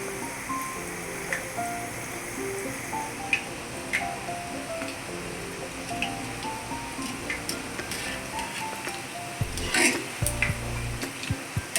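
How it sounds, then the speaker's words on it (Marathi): Moong dal fritters deep-fry in oil over a low flame, a continuous close crackling sizzle with scattered pops and a louder clatter of utensils near the end. "थोडंसं आपल्याला कलर बदल्यापर्यंत थोडी चांगली तळून घ्या गोल्डन होईपर्यंत"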